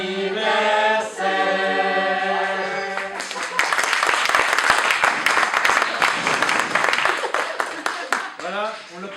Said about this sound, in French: on l'applaudit pour ses 20 ans.